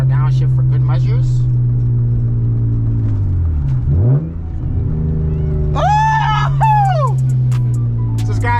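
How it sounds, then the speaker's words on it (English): A very loud BMW E36 downshifts on the highway: a steady low engine drone sags and rises again through the shift, followed by a sharp whining rev climb and fall near the end. "One more downshift for good measures."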